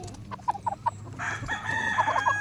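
A young Kelso-bloodline stag rooster crows close by, with clucking notes before a longer, strained crow in the second half.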